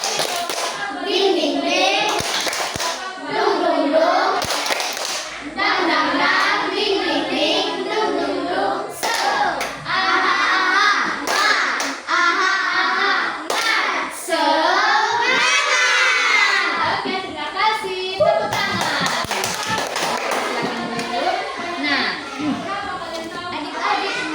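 A group of schoolchildren in a classroom claps and cheers loudly together in bursts, with shouting and an adult voice leading a rhythmic clapping chant over the noise.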